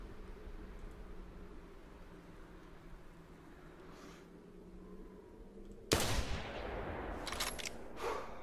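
A sharp, loud shot from a .223 bolt action rifle in the hunting game theHunter Classic rings out once after a long quiet outdoor ambience, followed by a trailing echo and a few small rustling sounds.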